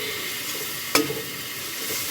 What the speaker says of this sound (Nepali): मजाले चलाउने